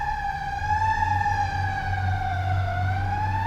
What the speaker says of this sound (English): There's a lot of sirens today, y'all.